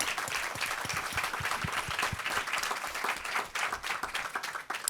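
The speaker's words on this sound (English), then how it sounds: "Can we get a round of applause?" An audience applauds a panel speaker at a climate ideas forum, a full room of hands clapping steadily with a few sharp individual claps standing out near the front, continuing for several seconds.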